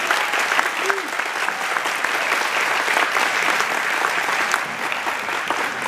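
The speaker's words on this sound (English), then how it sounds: "can we give a big round of applause to the wonderful Vasquez students of the Culinary Arts Program" An audience claps for culinary arts students who served a meal at a luncheon event, a dense continuous round of applause with scattered sharper claps standing out near the front.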